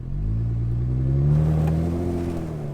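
A truck stuck in snow in two-wheel drive with the lockers open revs hard, its engine rising and holding a loud, steady drone that swells and eases again over a few seconds, with no voices.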